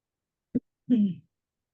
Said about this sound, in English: Sorry, just clearing my throat there.